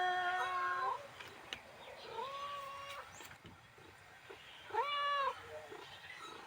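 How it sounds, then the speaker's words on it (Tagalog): A cat meows three times, each call drawn out and wavering, with short pauses between them in a quiet room. "meow, meow, meow."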